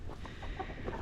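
Backyard chickens cluck softly in a short, faint burst of low throaty calls with no one talking.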